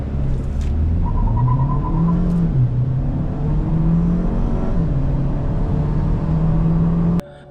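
A 2023 GAC Empow 1.5GB sedan accelerates hard from 0 to 100 km/h, its engine droning and rising in pitch through several gear shifts from inside the cabin, then cutting off abruptly.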